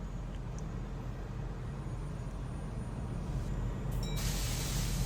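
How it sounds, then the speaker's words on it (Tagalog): A ship's main engine turning at dead slow ahead while a governor actuator abnormal alarm is active: a steady, loud, low machinery drone with broadband engine-room hiss that holds unchanged throughout, with no voices. "Start to dead slow ahead the engine."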